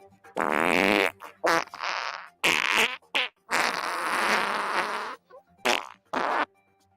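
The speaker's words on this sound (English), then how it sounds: "Boeing has released its newest farting plane" Comedic fart sound effects for a farting-plane ad: a series of loud, buzzing, sputtering bursts of varied length, some long and drawn out, others short pops, separated by brief silences.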